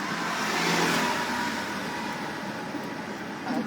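A car engine revs in short bursts while a driver is guided, a steady mid-level engine hum and rushing noise rising and easing slightly, fairly close, with no speech.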